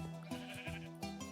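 Sheep bleat on a wool farm in a video game: three short, evenly spaced bleats, clear and close, with no talking.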